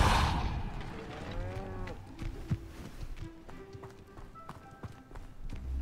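A cow moos several times in Hogwarts Legacy with a long, drawn-out low call, over faint game background noise and occasional hoof-like clops.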